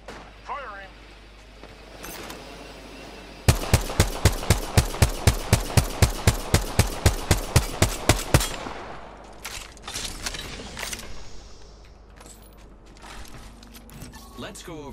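Rapid burst of automatic gunfire in a shooter game, about twenty sharp evenly spaced shots over five seconds, loud and close, followed by scattered fainter shots and clanks with voices talking nearby.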